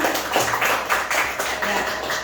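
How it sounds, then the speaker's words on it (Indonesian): A room full of people applauds, a dense spatter of claps rising and falling in waves, with a faint voice underneath. "Berikan tepuk tangan yang luar biasa dulu Bapak Ibu ya"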